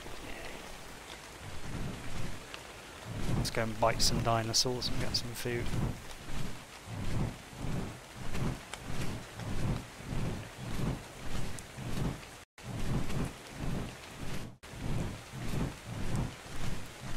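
In the video game Ark, steady rain pours down while rolling thunder swells and recedes in repeated waves, and someone talks over the stormy weather throughout.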